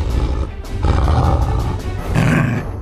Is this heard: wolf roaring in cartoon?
yes